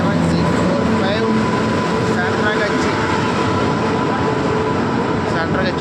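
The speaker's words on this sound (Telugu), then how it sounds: "the most famous train 12245 Howrah SMBT Duronto" The Howrah–SMVT Duronto Express (train 12245), hauled by a Santragachi-based locomotive, runs on the rails with a loud, continuous rumbling roar and steady rail noise throughout.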